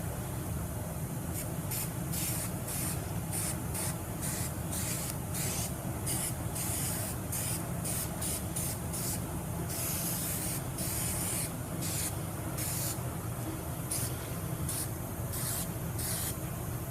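An aerosol can of high-temperature adhesive sprays steadily onto a Buick LeSabre sun visor board, a continuous close hiss broken by short pauses between passes.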